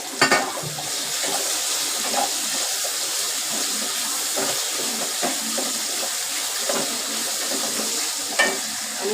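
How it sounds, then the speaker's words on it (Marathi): Potatoes and tomatoes go into a pan of frying onions, and a wet, steady sizzle follows with stirring scrapes and occasional louder splashes and clatter. "त्यात मी बटाटे टाकते, बटाटे आणि टोमॅटो एकत्रित टाकते."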